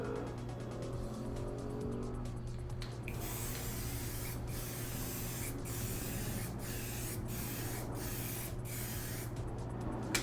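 Aerosol spray can hisses steadily and close up while painting Boba Fett costume armor, one long continuous burst followed by several short rhythmic spurts with brief gaps, no talking.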